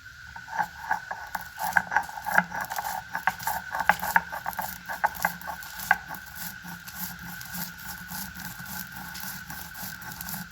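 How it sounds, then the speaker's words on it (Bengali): Roasted spices are ground by hand on a flat stone shil, with rhythmic back-and-forth scraping strokes, loud and close for several seconds, then easing into a softer, steadier rubbing. "শিলে এবার গুঁড়িয়ে নেবো"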